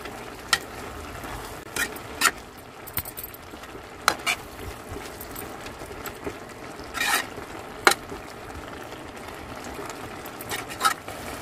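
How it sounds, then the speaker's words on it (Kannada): Vegetable palya being stirred and mixed in a pan, with a low steady rustle broken by sharp scraping clicks of the spoon against the metal at irregular intervals. "ಇದನ್ನೆಲ್ಲ ಚೆನ್ನಾಗಿ ಮಿಕ್ಸ್ ಮಾಡಬೇಕು"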